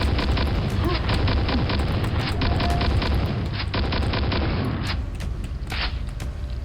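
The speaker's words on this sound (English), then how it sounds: "he drops 3 rockets instead of just 1" Several rockets fire and explode in a video game, a dense run of heavy booms and blasts that stays loud and continuous throughout, with no talking.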